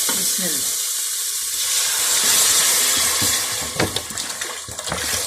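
Water, about 1.5 litres, poured into a pot of frying chicken with ginger and garlic, causing a loud, steady hiss and sizzle, with stirring clatter and bubbling toward the end.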